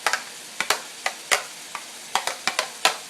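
Hamburger meat browning in a pan for sloppy joes, with close, repeated sharp scrapes and taps of a utensil stirring the meat over a soft sizzle.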